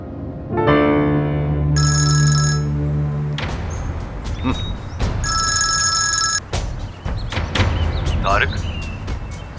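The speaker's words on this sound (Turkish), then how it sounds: "Sizi çok aradım ama açmadınız Harun Bey." Telephone bell ringing loudly in repeated bursts, mixed with door and sliding-door sounds and clunks, while people talk over it in a dramatic television series scene.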